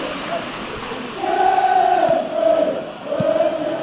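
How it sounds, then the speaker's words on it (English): Stadium crowd noise from the football video game eFootball PES 2021, a steady broad murmur that swells into a louder roar of approval partway through and holds at that level, with a few sustained tonal chant-like lines drifting through the crowd. "Crowd appreciates good football all round there."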